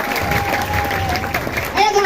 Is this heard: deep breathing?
no